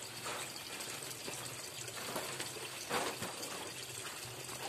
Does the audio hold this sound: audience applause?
no